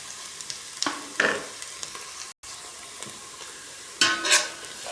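Garlic frying for squid adobo with lemongrass, a steady sizzle broken by several scraping stirs, with a louder burst of stirring near the end.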